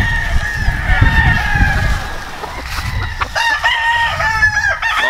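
Gamefowl roosters crow on a Missouri game farm of Albany, Kelso, Hatch, Gray and roundhead bloodlines, several loud overlapping crows near and farther off over rumbling outdoor background.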